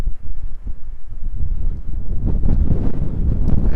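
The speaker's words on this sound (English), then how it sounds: "with the wind chill, I would say in the low 60s, but 50-mile-per-hour wind gusts, and like I said, it's pretty rough right now." Strong wind gusts, around 50 mph, roar and buffet the microphone outdoors in the foothills of the Rockies near Boulder, Colorado, a loud, continuous low rumble with no voices.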